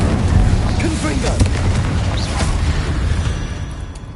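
Confringo, an explosive fire spell from the video game Hogwarts Legacy, bursting in a dense, continuous roar of booming blasts and crackling debris for several seconds, loud and close, with faint vocal sounds mixed into the din.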